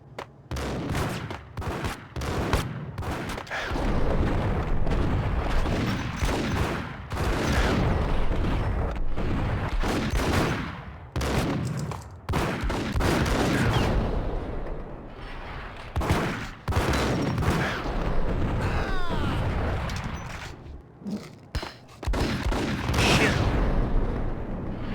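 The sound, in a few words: grenade explosions in Max Payne video game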